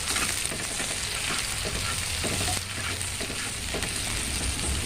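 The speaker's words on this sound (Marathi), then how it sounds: "आता तव्यामध्ये 1 पळी तेल आणि तिखट हिरव्या मिरच्या आणि सगळ्यात लसणाच्या पाकळ्या ठेचून घ्यायच्या आणि ते टाकायचं" Green chillies and crushed garlic cloves sauté in a ladle of oil in a pan, giving a steady, dense sizzle that stays loud and even throughout, with faint stirring scrapes and no voices.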